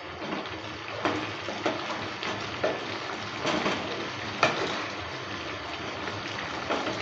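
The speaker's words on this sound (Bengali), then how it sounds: "গরম মশলাটা দেওয়ার পর ভালো করে নেড়ে চেড়ে নিলাম।" Prawn and taro curry with garam masala being stirred in a pan, a steady wet sizzle with repeated spoon scrapes and bubbling at an even rhythm, close and fairly loud, no talk.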